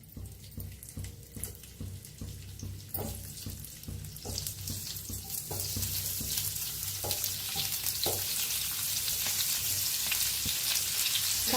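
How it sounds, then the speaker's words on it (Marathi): Bitter gourd pieces dropped into hot oil in a pan on a gas stove, at first with scattered clatters and pops, then a steady hiss of frying that grows louder and fills the rest of the clip. "कारली सोडून घेऊया तेलात."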